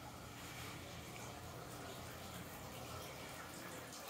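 Shower water runs in a ryokan bathroom at Bettei Otozure in Yamaguchi, Japan, a steady faint hiss of spray continuing evenly throughout.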